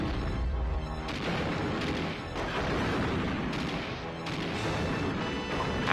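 A boss in Donkey Kong 64 firing shots in repeated booming bursts, heavy blasts recurring roughly every second over a dense, loud game soundscape.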